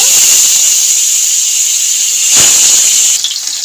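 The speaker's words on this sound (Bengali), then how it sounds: "তেলের মধ্যে আমি একটুখানি হলুদ দিয়ে দেবো। পনিরগুলো দিয়ে ভেজে নেব।" Paneer frying in hot oil with a pinch of turmeric gives a loud, steady sizzling hiss up close, broken by a brief crackle midway and a slight shift near the end.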